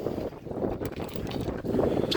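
Gusty wind buffets the microphone with low rumbling noise while trolling for fish at Buoy 10, steady and close throughout, with no voices.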